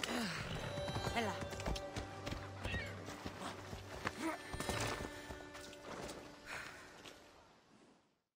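Steady clip-clop of horse hooves walking at an even pace in the video game Assassin's Creed Odyssey, close by, with voices talking over it and a busy game-like soundscape behind.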